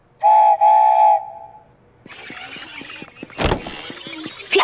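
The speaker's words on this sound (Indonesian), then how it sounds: "Aku rasa aku bisa mengenali peluit kereta saat mendengarnya." A loud two-toned steam locomotive whistle in a cartoon blasts twice in quick succession and trails off, followed by chugging, hissing engine noise and a sharp burst of steam.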